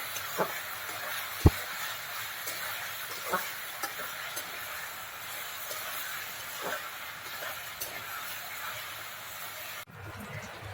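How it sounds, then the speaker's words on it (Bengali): Pointed gourd and potato frying in a pan give a soft, steady sizzle, fairly quiet overall, dotted with occasional sharper pops and ticks of spatula or spitting oil, ending in a brief clatter. "এদিকে পটল আর আলু ভাজি ভাজি করে নিচ্ছি"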